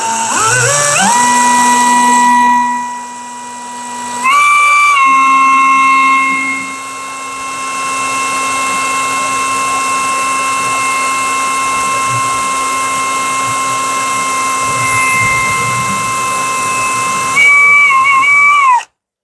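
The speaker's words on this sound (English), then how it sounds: "I'm going to preserve this sharp tip I have and get all my pilot holes done." Power drill boring pilot holes for a shower safety handrail with a sharp bit, a loud steady high-pitched whine that rises as it spins up, holds for long stretches, and pauses briefly between holes.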